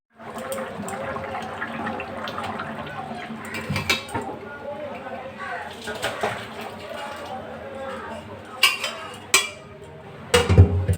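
Cooked food is poured out of a pan into a serving dish, with continuous soft wet sliding and scraping, then sharper metallic clanks and clatters of the pan and utensils against the dish near the end.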